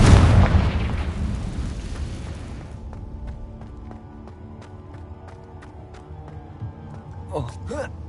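A Confringo fire spell goes off in the video game Hogwarts Legacy, a loud booming explosion that rolls off and fades into quieter debris crackle and scattered ticks; a voice calls out briefly near the end.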